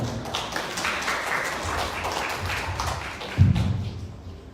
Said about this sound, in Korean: 우리 그 임정욱 센터장님을 큰 박수로 모시도록 하겠습니다